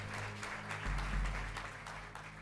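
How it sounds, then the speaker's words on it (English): A courtroom audience applauds during a hearing in the USA Gymnastics abuse case, a fairly faint, steady patter of clapping with a few stronger bursts, heard alone. "Normally, there are not people applauding."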